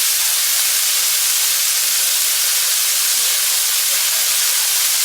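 Mud crab coated in a flour and salt batter frying in hot oil in a home kitchen, a steady, loud, continuous sizzling hiss with no breaks.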